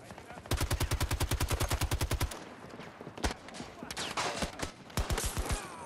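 A rapid burst of assault rifle fire from an RM8 in Battlefield 2042 rattles off loud and close, followed by scattered single shots and shorter volleys amid game noise.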